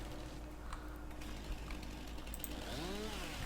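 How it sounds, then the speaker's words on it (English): A stump grinder in Farming Simulator 19 grinds a tree stump with a faint, steady mechanical drone and rattle, joined by a few small clicks and a brief rising whine near the end. "we can grind that with the grinder"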